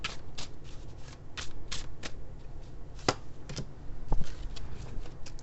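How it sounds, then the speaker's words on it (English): Tarot cards from a Chinese deck are shuffled by hand, giving a steady run of close, papery riffles and soft flicks that continue throughout with no talking. "I'm going to pull from my Chinese deck here"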